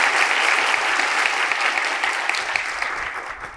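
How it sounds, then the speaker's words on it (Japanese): Applause from the audience at a Japanese tech conference greets the end of a TypeProf software demo, a dense, steady round of clapping that fades slightly toward the close. "拍手を要求したんですけれども"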